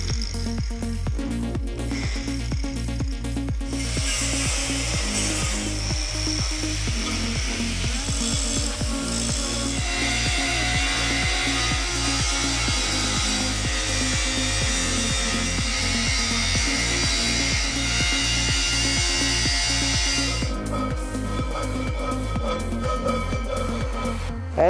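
An angle grinder smooths the sharp cut edge of a metal tube for a Tesla/Tatra two-motor monster truck build, a loud continuous abrasive whine with stuttering bursts as the disc presses and lifts.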